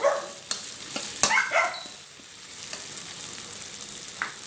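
Sand shark fish being stir-fried with curry paste in a hot pan, giving a steady sizzling hiss broken by sharp spatula scrapes and clanks, busiest in the first two seconds and then settling to a softer continuous fry.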